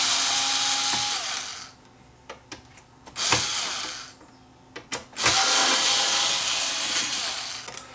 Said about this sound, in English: I should be able to remove the back and leave the rest of the mechanism in place by just removing all these screws on the back here.